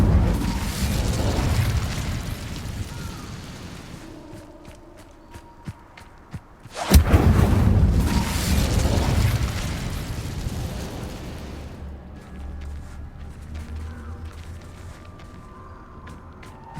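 Fiery spell blasts in Hogwarts Legacy: a loud bursting whoosh opens, then a sharp second blast near the middle with a roaring tail, followed by quieter rumbles and magical effects.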